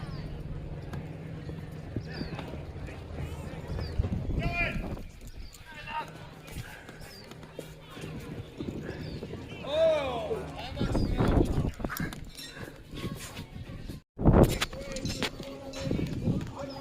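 Horse hooves clip-clopping as a horse pulls a carriage ride at a Renaissance fair, a steady close clatter of hoofbeats running under frequent talk, crowd noise and a brief whinny.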